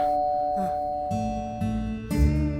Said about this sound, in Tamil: Calling bell அடிக்கிறாங்கடா.